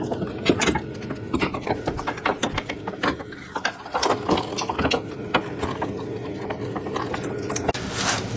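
A ratchet snugs up the nut on a MOOG rear sway bar end link (15 mm nut) on a VW Golf Sportwagen MK7, giving rapid close clicking bursts in quick repeated strokes with no talking.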